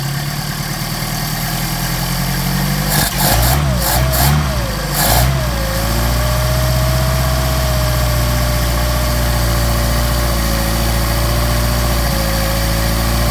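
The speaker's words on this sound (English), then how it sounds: "So I'm going to increase the RPM so you can get this warmed up pretty quick and do some tuning." Mercedes 190SL engine with Solex carburetors held at raised RPM to warm up, a loud steady close-up drone with a few brief revving bursts early on before settling into an even, sustained hum.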